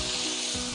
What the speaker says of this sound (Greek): να βάλω και το υπόλοιπο κοτόπουλο μου